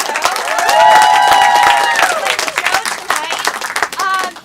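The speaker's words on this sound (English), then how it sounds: "big round of applause for Joe Bill, who's here from Chicago" A comedy-show audience at The Pickle applauds and cheers, clapping building into a dense, loud wash with whoops and voices rising over it, then tapering into scattered claps and chatter.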